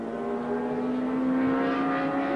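Race cars, including a Fiat 124 and an Escort, brake and accelerate around a hairpin, their engines droning steadily with a rising and falling pitch. The sound is faint and distant, with no voices.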